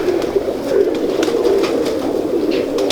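Pigeons coo in a continuous, loud, close chorus of overlapping throaty calls, a fancier's breed of kabutar held in a loft.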